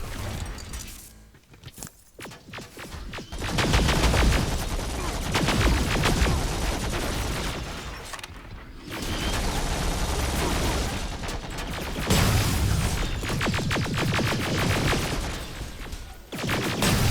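Heavy gunfire in the Terminator Resistance video game, with dense bursts and booms that go on with little pause across the scene, joined by shouted voices and a loud, busy backdrop.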